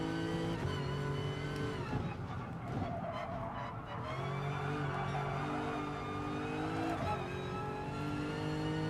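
A Lexus race car in a racing video game set at Brands Hatch GP, its engine droning steadily and loudly with shifting pitch as it accelerates and brakes, plus bits of tire squeal.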